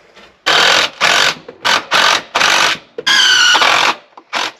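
A power driver buzzes in short, repeated bursts while screws go into a beam supporting a chimney pipe stack, the bursts loud and close with brief pauses between them.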